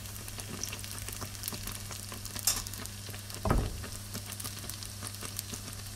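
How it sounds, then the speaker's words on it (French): Moroccan beignets frying in oil in a pan give a steady, soft sizzle with a faint crackle, punctuated by a couple of brief louder pops or stirs. "Le pain ou beignet cuit à la poêle."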